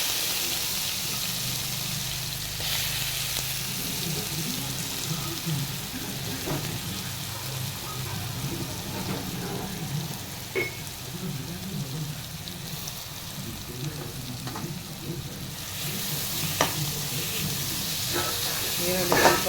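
Onions frying in hot oil with mustard seeds and cumin for rajma curry, a steady mid-level hiss with scattered crackles and pops, continuous and close.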